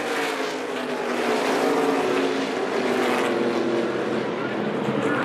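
ARCA stock cars race at Bakersfield through turn one and up the hill, a dense continuous roar of several engines at full throttle, close and loud, with a commentator talking over it.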